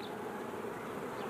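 Bees buzzing in a steady, continuous drone, close and even, filling the whole stretch with no talk.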